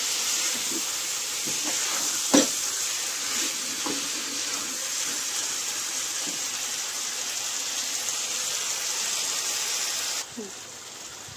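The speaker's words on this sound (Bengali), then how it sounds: "আর লো ফ্লেম করে চিকেনটাকে ভালোভাবে কষিয়ে নেব।" Spicy chicken curry is sautéed with spices over a low flame, giving a steady, even hiss of gentle sizzling with a few faint clinks and one sharp knock, before the sound drops away near the end.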